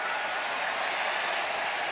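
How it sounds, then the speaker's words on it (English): Applause from a large crowd at a K-1 kickboxing event, a steady wash of clapping that fills a short stretch without any voices over it. "Listen to the applause."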